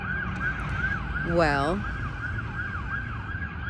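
Emergency vehicle sirens wail in repeated rising and falling sweeps as they pass at a moderate distance on a street, with a brief swelling horn-like tone in the middle and a voice speaking briefly.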